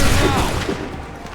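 A musket volley erupts in the video game Assassin's Creed III Remastered during the battles of Lexington and Concord, one loud massed blast decaying into a rumbling tail.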